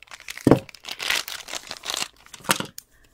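Plastic packaging of a Monster High doll base crinkles and tears in several short, sharp bursts, close by, with brief pauses between pulls and no voices.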